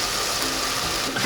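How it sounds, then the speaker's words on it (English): Chikuwa fish cake and lotus root stir-frying in vegetable oil, a dense, continuous hiss and sizzle that stays loud and even throughout, with no voices. "keep stir frying"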